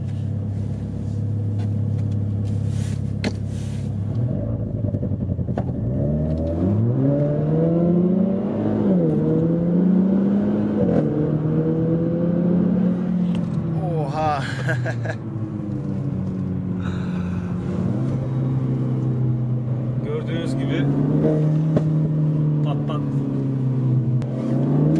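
A Renault Clio 4 RS doing a launch-control start, its engine revving hard then pulling through rising gear sweeps, loud and close from inside the car, with a voice speaking over parts of it.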